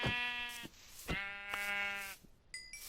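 Sheep in the Minecraft video game bleat twice in long, wavering cries, close and clear, followed by a short high chime-like game sound.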